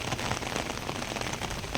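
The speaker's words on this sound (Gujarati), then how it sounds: "બાકી વરસાદ તાકાતવાળો છે." Heavy rain pours down steadily in a dense, continuous hiss, loud and close with no other sounds on top.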